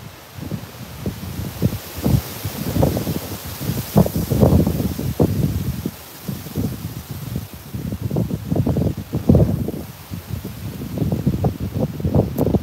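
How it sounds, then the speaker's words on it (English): Strong wind gusts across a fishing pond, buffeting the microphone in rough, surging rushes that rise and fall over several seconds, loud and close, with no talking. "We're getting a ton of wind right now. Bunch of wind blowing up, I think from the south."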